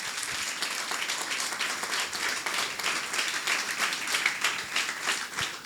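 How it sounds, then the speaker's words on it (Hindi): Church congregation clapping hard during a Hindi-language Christian service, a dense, continuous burst of many hands throughout, loud and close. "आइए जोरदार ताली हम प्रभु यीशु मसीह के लिए बजाएं"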